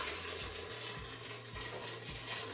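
Boiling water pours steadily into a pan of vegetables in a continuous rushing splash, close and fairly loud, with no voices.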